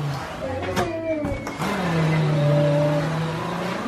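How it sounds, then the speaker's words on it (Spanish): Scarlett's new toy car, bought at Walmart, gives off a steady whirring motor with rising and falling engine-like tones over about four seconds, fairly close and continuous. "El nuevo carro de la Scarlett."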